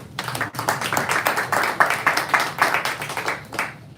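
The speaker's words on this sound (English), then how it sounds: "Give them a little round of applause." Audience applause at a bookstore author event, a dense round of clapping from a room full of people lasting a few seconds, fairly close and steady with no talking over it.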